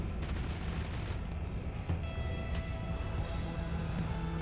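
Dense rumbling spell fire and repeated explosions in the pixel-physics game Noita, a continuous barrage of booms and crackles with no talking.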